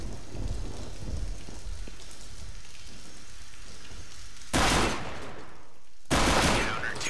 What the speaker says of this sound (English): Deploying flashbang. Throwing flashbang.